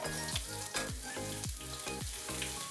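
Onions sizzle and crackle loudly in hot oil in a wok, with several sharp bursts of stirring repeating every half second or so, no talking.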